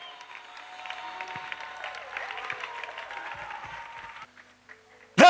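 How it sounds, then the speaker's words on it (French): A church congregation applauds together, a dense, steady wash of clapping at moderate level for about four seconds before it breaks off, with a faint sustained tone running underneath. "Clap for Jesus."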